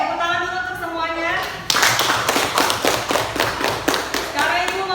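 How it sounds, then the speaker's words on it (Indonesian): Students in a classroom break into a short burst of clapping, a dense patter of many hands starting abruptly after a teacher speaks and carrying on steadily to the end. "Tepuk tangan dulu untuk semuanya."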